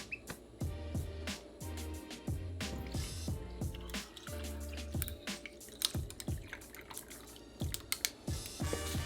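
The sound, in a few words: pouring cucumber jalapeño margarita into glass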